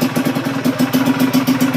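A motorcycle engine, upgraded and tuned by a mechanic at a provincial motor parts shop, idles close by with a steady rapid putter and light clatter, pulsing evenly throughout with no talk.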